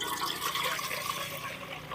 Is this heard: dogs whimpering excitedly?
no